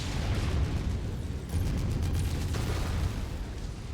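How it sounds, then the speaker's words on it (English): Missile impacts and explosions in the MechWarrior 5: Mercenaries mech combat game form a dense, continuous rumble of blasts with repeated booms that stay loud across the whole stretch. "Incoming missile."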